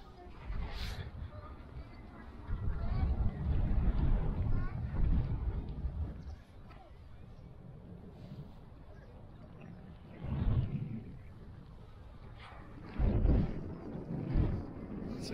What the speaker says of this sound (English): It's a tad breezy.